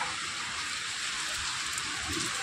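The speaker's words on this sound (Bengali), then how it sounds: "ভালো বৃষ্টি হচ্ছে।" Steady rain falling outdoors, a dense, even hiss of drops pattering on surfaces, moderately loud and unbroken, with faint low thumps beneath and no talking.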